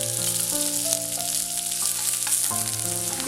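Sliced onions sizzle and fry steadily in hot ghee and oil in a pan, a continuous close crackling hiss with no voices, over a faint sustained musical backdrop.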